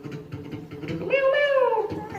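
A person mimics a cat's meow with a single drawn-out, rising then falling cry lasting about a second, heard up close over a murmur of children's voices at a school fast-breaking gathering.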